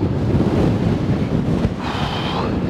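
Strong wind roars steadily across the microphone in loud, continuous gusts on a mountain top at Mirador del Río, Lanzarote, with no voices.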